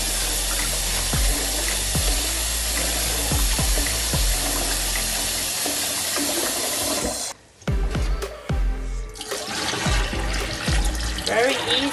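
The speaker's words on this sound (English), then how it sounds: "I'm going to show you how to wash it properly in cold water." Running cold tap water splashes steadily over white rice in a bowl or sink for about seven seconds, then cuts off briefly before a softer swishing and trickling of the rice being rinsed resumes.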